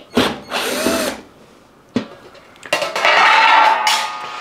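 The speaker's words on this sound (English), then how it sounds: "So we'll just unscrew the back panel," A power screwdriver backs out the rear panel screws on a Bush WMNBX814W washing machine built by Vestel, giving a few short, loud whirring bursts separated by pauses and clicks, close by with no talking.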